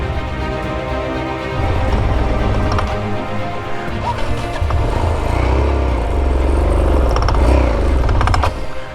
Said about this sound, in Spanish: no sé si está picando biela ya del calentón que debe llevar la moto